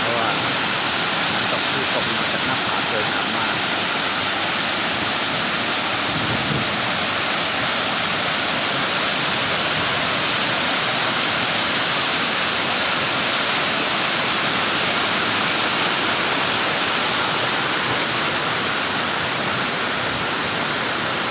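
Waterfall in Kanchanaburi, Thailand, a tiered fall dropping from an upper cliff, roars as a steady broadband rush of falling water throughout, loud and constant with no breaks.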